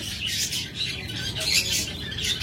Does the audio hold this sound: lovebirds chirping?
yes